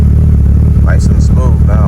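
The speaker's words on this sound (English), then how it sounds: "let's test out the idle for startup. No clutch pedal. Just gonna fire it up and see where we stand." A Mitsubishi Evo 8 engine idles just after start-up, a loud, steady, close rumble that holds throughout with no breaks.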